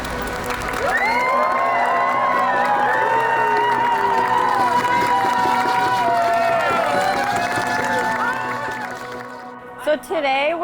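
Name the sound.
crowd clapping, hooting and hollering for a canoe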